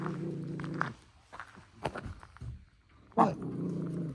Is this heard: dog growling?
yes